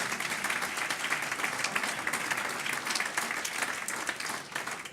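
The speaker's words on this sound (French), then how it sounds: "vous pouvez déjà vous applaudir" Steady applause from a crowd of about 400 at a political campaign meeting in a conference hall, dense, even and sustained throughout, with no speech over it.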